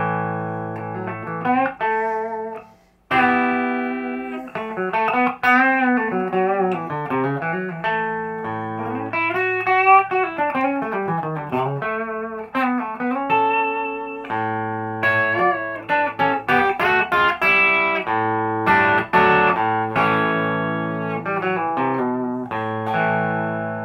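A Rickenbacker 360 electric guitar plays through its bridge pickup with mild distortion, giving a bright, slightly gritty tone. Chords and melodic runs sound close and prominent throughout, with one brief stop near the start.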